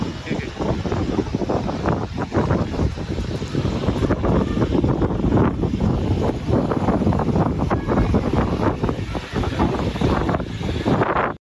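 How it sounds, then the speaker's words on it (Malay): Strong wind buffets the microphone high up on a treetop walkway in an ancient hill forest, a loud, continuous roar and rumble with no pause. "Tinggi ni, angin kuat ni."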